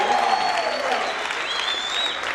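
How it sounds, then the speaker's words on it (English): Steady, dense applause from a church congregation, continuous and fairly loud throughout, with a faint voice mixed in. "Clap for Jesus!"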